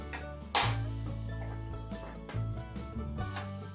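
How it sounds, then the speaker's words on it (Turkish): Walnuts and cinnamon mixed in a bowl for a raisin and walnut cake: a sharp clink at the start, then steady scraping and tapping of a utensil against the bowl, close and moderately loud, with a low hum underneath. "Tekrardan güzel bir şekilde karıştırıp bunu da ekleyeceğim."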